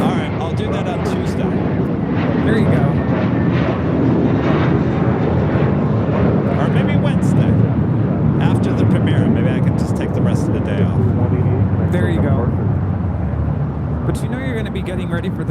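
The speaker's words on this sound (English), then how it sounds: "This is JetBlue 188 taking off to Boston on an A321." A JetBlue Airbus A321 jet roars through its takeoff roll at LAX, a loud, sustained broadband engine rumble filling the whole stretch, with a voice speaking over it.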